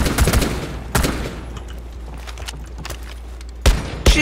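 Gunfire in the video game Rainbow Six Siege, with loud close shots and bursts at the start and again near the end over a rumbling background, while a voice speaks briefly.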